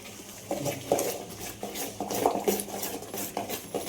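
Thuthuvalai and pirandai herbs are stirred and sautéed in a pan, making repeated scraping and clinking strokes of a utensil against metal over a faint background hiss, close and moderately quiet.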